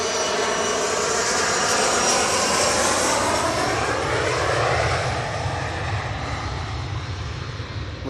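A Singapore Airlines jet at Manchester Airport roars steadily and loudly close by, a broad engine rush with a slowly shifting whine over eight seconds; no voices.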